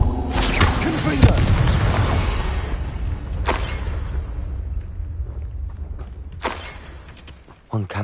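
Confringo blasting spell cast in Hogwarts Legacy, with a booming impact and whooshing bursts repeated a few times over a rumbling battle din, mixed with speech.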